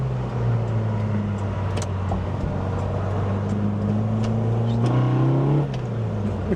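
A car fitted with an enlarged, big-head A-series engine pulls in fifth gear, its engine note droning steadily and rising in pitch as it accelerates, loud and close inside the cabin, with no voices.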